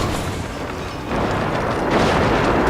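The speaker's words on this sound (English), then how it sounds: "the cannon is working" Cannon fire in Guild Wars 2 World vs World combat during a beta weekend, a dense continuous rumble of booming blasts that swells louder after the first second and stays heavy to the end.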